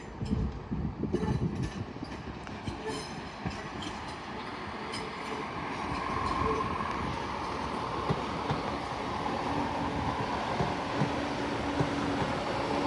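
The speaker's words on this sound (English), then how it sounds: "on platform 1 is your 1318 LNER Intercity 225 set from Leeds to London King's Cross" LNER Intercity 225 set on the Leeds to London King's Cross service at a Doncaster station platform, a steady broad rumble with faint clickety-clack and wind, building slightly midway and continuing without talk.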